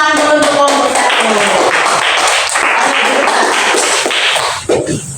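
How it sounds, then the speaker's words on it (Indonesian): A class of students applauds a presenting group in a classroom, a dense, steady burst of many hands clapping close by for about five seconds, with a few faint voices mixed in. "Kasih tepuk tangan dulu untuk kelompok satu."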